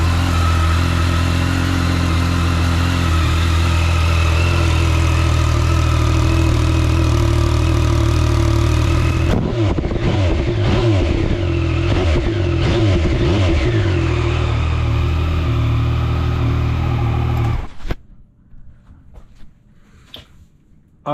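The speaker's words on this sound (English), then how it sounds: "that's what the stock exhaust sounds like" Yamaha MT-09 motorcycle on its stock exhaust, idling steadily with a loud, even engine drone, then blipped through several quick revs that rise and fall before the engine shuts off, leaving near silence.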